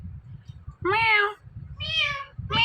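A talking parrot mimics a cat's meow, giving two clear, drawn-out meow calls followed by the start of a third, each rising then falling, with quiet low rumbling between them.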